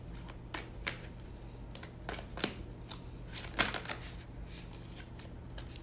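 Tarot cards are shuffled close by in a quiet room, with soft riffling flutters and several crisp snapping bursts spread unevenly across the clip.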